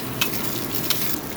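Ginger-garlic paste sizzling and frying with fried onions in a pan, a steady close crackle with two brief louder spatters, no voices.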